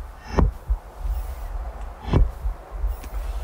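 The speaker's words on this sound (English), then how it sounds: "Heartbeat." A cinematic heartbeat from the Dune 2 trailer sounds as slow, deep, isolated thuds over a low ambient hum.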